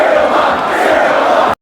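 A crowd in a club cheers a woman as detectives lead her out under arrest. Dense, steady crowd noise holds at a loud level for about a second and a half, then cuts off abruptly.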